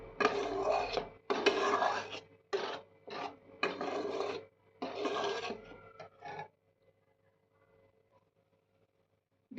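Spoon scraping and rubbing against a pan while a cashew, paneer and yogurt paste is mixed, in bursts of gritty stirring strokes, close and fairly loud, that stop and leave near silence at the end.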